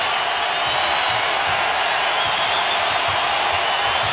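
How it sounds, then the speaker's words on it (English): A basketball arena crowd at an NBA Finals game, Lakers versus Celtics, roars steadily on its feet, a dense sustained wall of cheering and shouting that stays loud and even throughout with no let-up. "Crowd on its feet once again."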